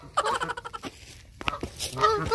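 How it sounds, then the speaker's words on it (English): Ducks calling outdoors on a hike at Red Rock Canyon, a burst of repeated quacking honks up close, a pause, then another rising chorus of calls. "And the ducks answer."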